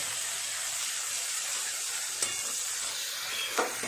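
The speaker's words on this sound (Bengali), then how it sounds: "এগুলো একটু ভালো করে নেড়ে নেড়ে ভেজে নেব।" Onion, ginger, garlic and green chili paste stir-frying in a pan, giving a constant close sizzle with a couple of brief scraping knocks as the spatula stirs.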